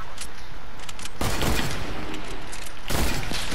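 Sniper rifle gunshots in the video game Fortnite ring out as two sharp, loud blasts about two seconds apart, each followed by a rolling echoing tail, with no talking.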